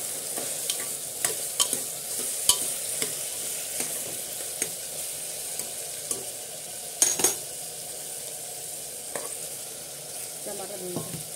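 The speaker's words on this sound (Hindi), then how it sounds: "अदरक लहसुन मिक्सर दे देते हैं, इसको भी भून लेते हैं।" Steady sizzling of ginger-garlic paste frying in a pan, with scattered clinks and scrapes of a spoon stirring, a couple of louder knocks midway.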